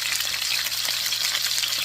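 Pork and apples sizzling in vegetable oil in a pan over medium heat, a steady close crackling hiss with no talking.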